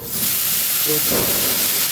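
Water sprinkled onto gram flour roasting in a pan for besan laddu sets off a loud, close, steady sizzling hiss that fills the whole stretch without a break.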